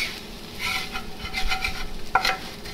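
A utensil scrapes fried veggie eggs from the bottom of a pan in short, repeated strokes over a soft, steady sizzle, close and fairly loud.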